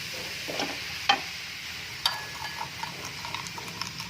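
Cauliflower and minced pork stir-frying in a pan, with a soft steady sizzle and a few sharp scrapes and clinks of a spatula against the pan; no talking.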